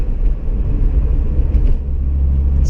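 A 700whp twin-turbo Toyota Supra drives in the rain, giving a close, continuous low rumble of engine and road noise with slight surges in level.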